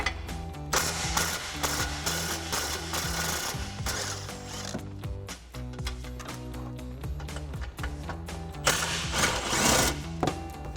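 A ratchet with a 13mm socket and extension unfastens exhaust bolts under a 2024 Mustang GT. Quick, repeated mechanical clicking comes in dense bursts, close up, with a steady mechanical hum underneath.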